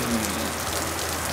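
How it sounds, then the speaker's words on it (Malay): Steady rain falls throughout as a continuous broadband hiss, close and even, with no talk. "Tengok ke cuaca tu hujan."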